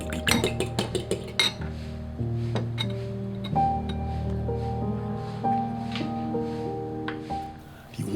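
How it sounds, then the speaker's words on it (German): Egg yolk and two spoonfuls of milk whisked together in a bowl, a quick run of metallic clinks and scrapes against the bowl at the start, then softer intermittent taps over a steady background hum. "Für einen schönen Glanz verrühre ich hier ein Eigelb und 2 Esslöffel Milch miteinander."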